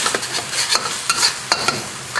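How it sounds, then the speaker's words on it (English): Lemongrass frying in sambal paste in a wok, a steady loud sizzle broken by several sharp scraping stirs of a utensil against the pan, with no voices. "I add some lemongrass, and I'm going to cook that until the lemongrass is fragrant."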